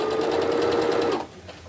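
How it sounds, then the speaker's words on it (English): A sewing machine stitches a set-in shirt sleeve seam, a steady fast whirring hum of needle strokes for just over a second before stopping abruptly, close and clear with no talk. "Start at the edge, go sew forward a few stitches, and sew backwards to anchor that stitch"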